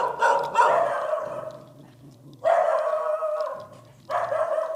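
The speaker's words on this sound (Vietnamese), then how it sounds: "Ở đây là có các chú chó núi nha quý vị." Mountain dogs at a Khmer Buddhist temple bark in loud, close bursts, a cluster of barks, a pause, then two more rounds, with no talk over them.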